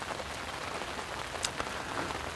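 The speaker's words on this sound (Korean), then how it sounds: "없던 비가 또 계속 내리고 있습니다" Steady rain falls during evening fishing at a flooded-tree pond, a constant soft hiss of drops on surfaces with a couple of sharper nearby patters, no voices.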